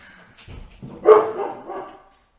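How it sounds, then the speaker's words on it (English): A dog barks and yips indoors near a door, a short close burst of barks with a whimpering edge, loud at first and then trailing off. "I'm gonna open this door so that Mando can get in and out and not bark directly into the mic"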